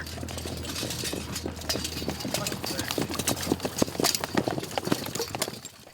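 Cavalry horses train on a historic western fort post, their hooves clip-clopping in a dense, uneven patter at close to mid range, with a low mechanical hum underneath at first.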